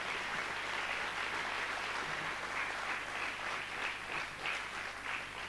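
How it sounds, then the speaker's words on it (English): An audience at a school annual day gives sustained applause for the students, a dense wash of clapping that stays steady and fairly distant throughout. "they deserve a resounding applause"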